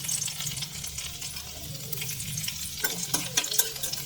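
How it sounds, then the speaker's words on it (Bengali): Chopped garlic fries in hot oil as Maggi is made. A continuous, fairly soft sizzle carries a low hum, and a few sharper clicks and spatters come near the end. No one speaks. "তেলটা গরম হয়ে গেছে, আমি এবার এর মধ্যে দিয়ে দেবো রসুন কুচি।"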